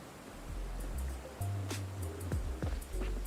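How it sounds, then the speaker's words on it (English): Polluted water of a large river flowing along a riverbank in the game Rain Code, a steady low rushing wash with a few faint higher splashes and clicks mixed in. "Riverbank of the large river."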